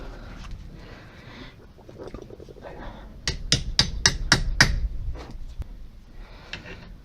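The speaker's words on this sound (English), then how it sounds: "Before you take the bolts out completely, give it a little knock with a hammer." Hammer knocks on a brake caliper bolt on a Toyota Avensis 2.2 diesel during a front disc and pad change, a quick run of about six sharp metallic strikes, close and loud, with no talk.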